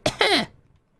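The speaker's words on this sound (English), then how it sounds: "Something in the air is making me cough." A person coughs twice in quick succession, close and loud, and the sound dies away within a second.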